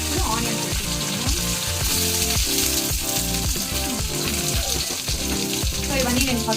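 Green chillies and onion sizzle in hot oil for a vermicelli dish, a loud, steady crackling fry with intermittent scraping and stirring clatter throughout.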